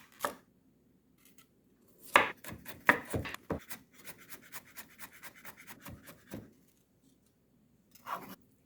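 Green onions being sliced diagonally with a kitchen knife on a cutting board: a quick run of crisp, close chops bunched in the middle, with scattered single knocks before and after and quiet gaps between.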